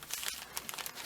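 A brief, quiet crinkle and tear as a sheet of greaseproof paper is peeled off bubble-wrap fabric, a few close crackles over about a second.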